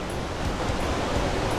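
Japan's tallest waterfall in Toyama roars nearby as a dense, steady wash of crashing water, loud and unbroken throughout, with no voices.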